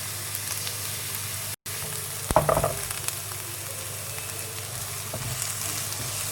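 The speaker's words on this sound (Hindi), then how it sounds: "जी तो अब इसमें प्याज डालेंगे।" Onions softening in oil in a pan for cabbage dumplings give a steady, close sizzle, with a short burst of stirring clatter partway through and a brief dropout near the start.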